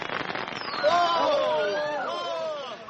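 Fireworks effect in a BBC radio drama of Agatha Christie's Hercule Poirot: whistling rockets rise and fall over about three seconds with crackling bursts and a faint crowd murmur behind.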